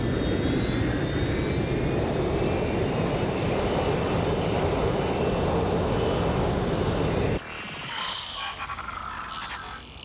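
Airplane engine in flight from the video game Watch Dogs: Legion, a steady loud jet drone with a slowly rising whine that cuts abruptly to a softer, muffled rumble near the end.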